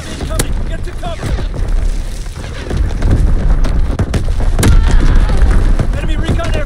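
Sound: enemy bomb explosion in a video game

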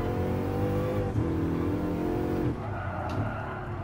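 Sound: Bugatti engine revving in video game Gran Turismo Sport

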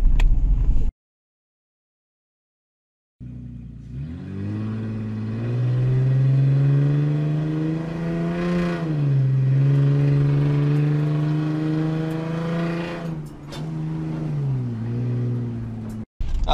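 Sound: Mahindra XUV500 car engine revving during test drive

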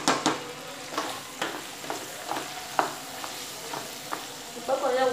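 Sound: vegetables and masala frying in oil for sambar

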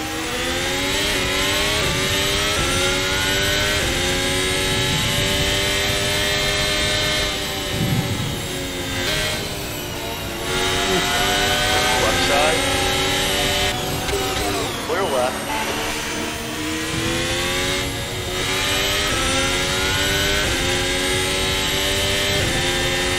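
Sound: RSS Formula Hybrid 2022 F1 car engine in video game Assetto Corsa

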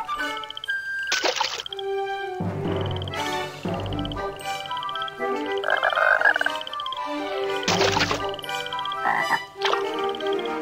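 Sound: frog croaking in the video game Barbie Riding Club

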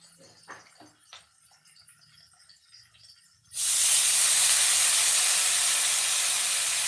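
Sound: drumstick greens added to frying onions

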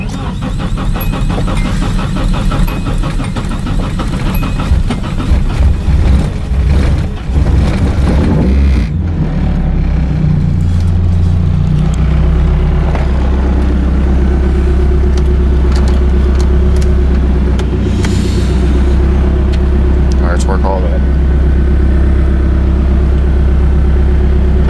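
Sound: car engine starting and idling

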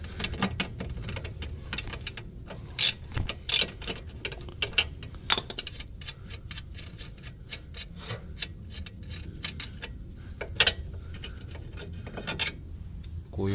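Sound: removing rear stabilizer link on Subaru WRX STI

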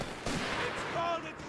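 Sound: machine gun fire in a video game

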